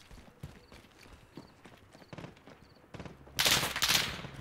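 Bullets whizz and crack through darkness in a Call of Duty: Modern Warfare night-mode multiplayer match, arriving as sparse, rhythmic thuds before a loud, dense burst of gunfire near the end.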